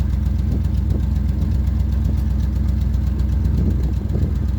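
1974 Chevrolet C10 pickup truck engine running steadily near the microphone with a rhythmic idle pulse and a faint mechanical knock, while gears are shifted with the clutch.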